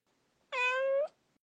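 A cat gives a single clear, close meow lasting about half a second, alone against near silence.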